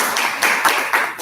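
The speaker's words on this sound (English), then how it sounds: "Let's give our candidates a round of applause." Audience applause for candidates at the close of a high school freshman council debate, a brief loud burst of clapping from a crowd that pulses in a few waves.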